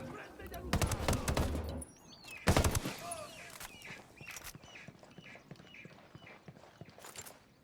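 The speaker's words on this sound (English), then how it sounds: "I'm shooting these fuckers." Bursts of automatic gunfire in the video game Tom Clancy's Wildlands, loud clustered shots early on that give way to quieter scattered sounds, with voices speaking over the action.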